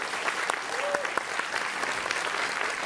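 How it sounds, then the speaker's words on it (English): Audience applause at a vegan food event honouring the judges, a steady wash of clapping across the whole clip at moderate distance, with a faint voice underneath. "Give our judges a round of applause."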